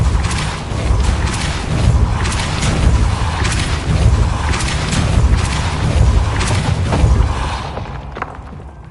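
Depulso spell cast in Hogwarts Legacy, a loud, dense burst of magical force with heavy booming thumps and crackling impacts layered over a continuous roar, fading out at the end.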